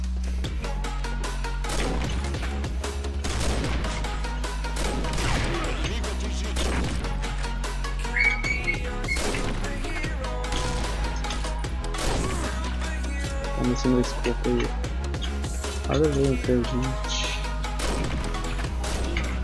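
Sniper rifle shots from an L96A1 Super-Magnum ring out in a video game amid other gunfire and crashing impacts, repeated irregularly over game music, with a player talking.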